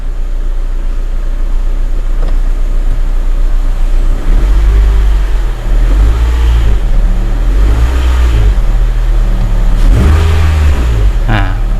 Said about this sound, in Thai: ผมลองเหยียบคันเร่งดูนะครับ